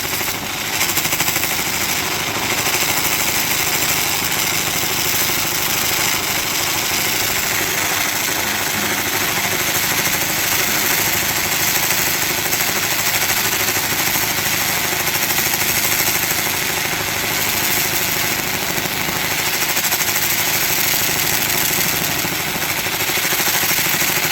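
A laser cutter slicing through a metal welding table at about 95% power gives a loud, steady, gritty roar with broad hiss, continuous and unbroken throughout.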